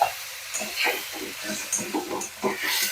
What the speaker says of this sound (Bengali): এক চামচ জিরে গুঁড়ো দিয়ে দিলাম এবার এর সাথে একটু ভালো করে ভেজে নেব